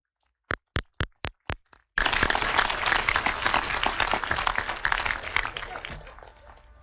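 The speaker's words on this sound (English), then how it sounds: "Let's give them a round of applause." Several separate sharp claps in a slow series, then a large graduation ceremony audience breaks into full, sustained applause that gradually tapers off.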